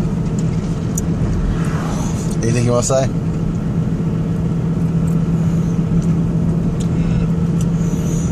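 A car drives home along the road at night, its low, steady engine and road rumble filling the cabin close up, while a person inside speaks briefly over it and a short rattling burst cuts in partway through.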